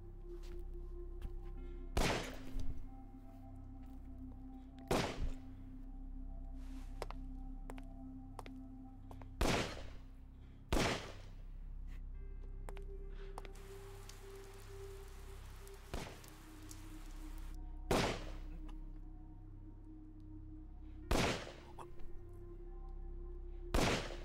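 Rubber bullet gunfire in the video game Yakuza 4 Remastered, sharp single shots cracking at irregular intervals over a steady low game ambience.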